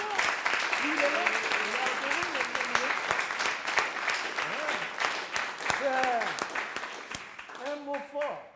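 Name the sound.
congregation applauding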